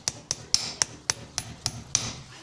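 A farrier's hammer drives a horseshoe nail through a horse's hoof in eight sharp, evenly spaced metallic taps, close and clear with no talking.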